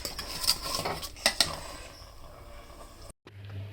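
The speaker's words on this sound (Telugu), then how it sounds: "ఇంకా గరిటె కలుపుకోవాలట." A ladle clinks and scrapes against a pot while stirring jaggery payasam, with several sharp metallic knocks, then a softer swirl and a brief cut to silence.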